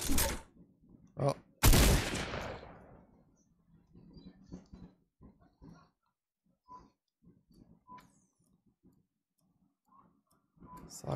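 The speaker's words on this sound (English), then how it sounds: "Saw a gunshot over here." Fortnite battle royale gunfire: a few loud, sharp shots at the start, one followed by a long ringing burst, then scattered quieter in-game clicks and pops, with a player's voice talking in between.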